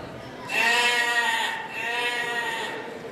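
A sheep bleats twice in a Panchatantra folk tale, two drawn-out wavering cries close by, the first louder and the second slightly softer, with no talk over them.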